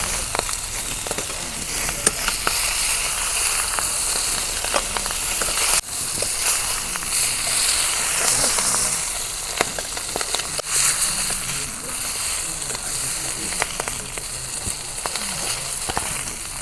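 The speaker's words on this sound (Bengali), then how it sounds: "মাছ ভাজা হচ্ছে, মাছগুলো নামি নেই।" Pieces of pangas fish frying in hot oil in a home kitchen, a steady close sizzle with crackles and occasional pops running continuously throughout.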